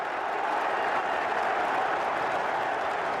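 A football stadium crowd applauds a goalkeeper, a broad, steady roar of distant clapping and crowd noise that holds evenly throughout with no clear voices.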